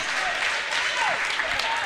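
A crowd at a men's college volleyball match gives a brief round of applause, a steady wash of clapping from the stands that holds for a couple of seconds with faint voices mixed in.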